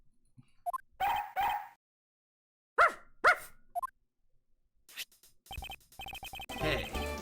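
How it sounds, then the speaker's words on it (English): Missile, a police dog in the Ace Attorney Investigations video game, barks in several short, close, voice-acted bursts separated by silences, with a brief yip near the start and game sounds toward the end. "Yes, you heard dog. There's dog right there."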